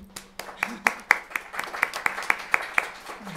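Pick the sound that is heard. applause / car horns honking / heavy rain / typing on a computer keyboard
applause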